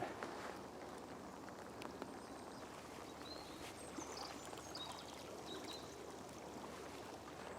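Water flows steadily along a riverbank lined with weeping willows, a soft, continuous rushing heard from nearby at low volume, with a few faint chirps and no talking.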